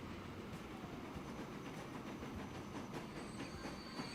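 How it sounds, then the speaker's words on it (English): A passenger train in the Transport Fever 2 video game rolls along its tracks with a steady rumble and rhythmic clickety-clack of wheels, faint and continuous without voices. "let's actually hop on our passenger train here. And we'll have a nice little ride."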